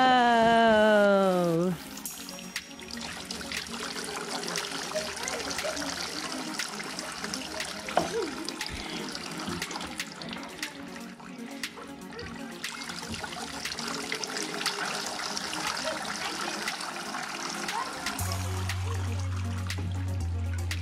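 Garden sprinkler spraying water outdoors, a steady close hiss and patter running throughout, with a brief tonal sound at the start and voices talking faintly underneath.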